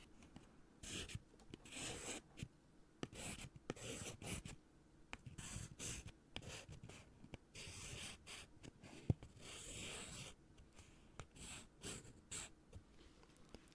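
Pencil pressed hard on paper while writing a six-letter word, giving repeated scratchy strokes in irregular bursts, close and fairly quiet with short pauses between letters.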